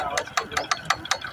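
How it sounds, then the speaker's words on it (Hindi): A motorbike front wheel with a suspected bearing fault clicks in a regular, evenly spaced rhythm, about six sharp ticks close by over a low background hum. "देखिए फ्रेंड्स, इसका आगे चक्का किस तरह से आवाज़ आ रहा है दोस्तों।"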